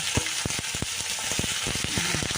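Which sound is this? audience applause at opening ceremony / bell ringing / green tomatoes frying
green tomatoes frying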